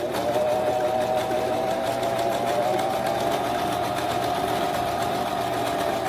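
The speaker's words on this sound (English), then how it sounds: "Now I need to sew straight line till I come over here." Close and loud, a sewing machine stitches a straight line on fabric, its rapid, even needle whir running without pause for several seconds and no talk.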